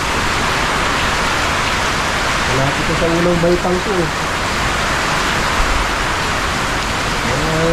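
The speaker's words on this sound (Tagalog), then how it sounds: "lakas pa ng ulan oh" Heavy rain and strong wind roar steadily during a flood with fast-rising water, forming a loud, constant wash while someone speaks briefly through it.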